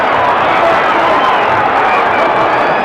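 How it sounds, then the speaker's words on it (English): Boxing crowd roaring and cheering at the Muhammad Ali vs Oscar Bonavena fight, a loud, dense, continuous wash of arena noise with no breaks. "Crowd exhorting Ali on."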